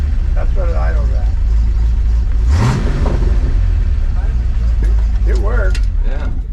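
A Ford truck engine idling, a steady low mechanical drone close by with a brief rising whine partway through, while people talk over it.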